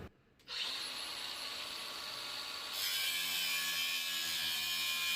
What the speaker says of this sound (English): I'm using a really fine cutoff wheel on the die grinder and just kind of finessing it through there